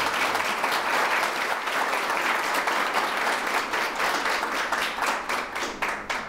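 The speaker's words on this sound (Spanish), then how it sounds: "yo les pediría a ustedes, por favor, un aplauso para el señor candidato" Audience at a university candidate forum applauding a presidential candidate: sustained, even clapping from a sizable crowd, loud and steady, thinning slightly toward the end.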